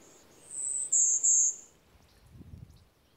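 Golden-winged warbler in forest canopy habitat giving its buzzy call, a few short, high, insect-like buzzes close together at fair distance, with a faint low thump afterward.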